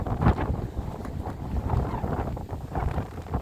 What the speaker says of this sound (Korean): 아, 바람이 너무 많이 부네요.